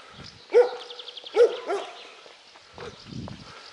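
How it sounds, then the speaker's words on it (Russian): A small dog tied up near the Sukhorabovka hydroelectric dam in flood season barks twice in quick succession, then gives a softer yip, fairly close and alone, with low rustling afterward. "Там, правда, вон собачка."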